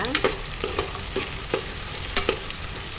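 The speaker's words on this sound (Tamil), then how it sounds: "வெங்காயம் நல்லா நிறமாக வர வரைக்கும் வணக்கிக்கலாம்" Onions and chopped green chillies sizzle steadily in a pan, with several sharp scraping clicks as a spoon stirs them; no voices.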